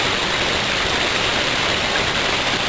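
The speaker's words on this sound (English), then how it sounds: "coming out of the filter, the water is very clear" A strong, continuous wash of water pours from a curb drainage filter into a collection tub, a dense, unchanging hiss close by with no voices.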